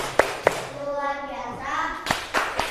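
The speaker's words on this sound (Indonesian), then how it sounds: "Kita kasih tepuk apresiasi." A class of children gives a rhythmic appreciation clap in a classroom, a few sharp claps and taps spaced out, with a teacher's voice and kids' voices chanting between them.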